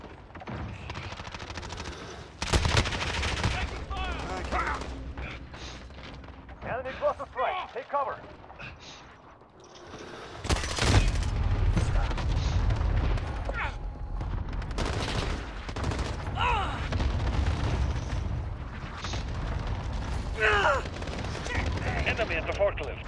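A cluster strike pounds a multiplayer match in the video game Modern Warfare, with heavy booming explosions and bursts of gunfire. A loud blast partway through is followed by rumbling detonations and scattered shots, while players talk excitedly over the din.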